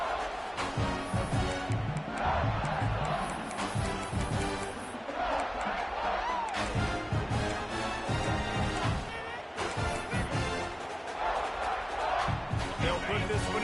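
A stadium crowd at an American football game roars in a dense, continuous wash of cheering and noise while a commentator talks over it.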